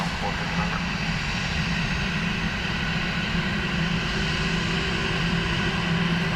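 An airliner lands on runway 2 left at Dublin Airport in low visibility, its engines making a steady broadband roar with a faint whine, loud and unbroken throughout, while a voice talks over it.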